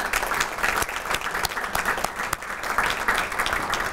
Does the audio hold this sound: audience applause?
yes